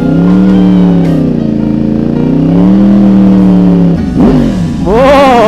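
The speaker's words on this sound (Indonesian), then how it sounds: "Dengar suara geberan itu loh ya" A loud Yamaha R1 sport motorcycle engine revs close by, its note wavering in long swells before sharper blips of throttle near the end.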